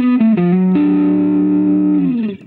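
Blues lead guitar lick in Mixolydian mode played through a Spark amplifier with a distorted blues tone, a few quick bent notes sliding into one long sustained note that fades at the end, loud and alone.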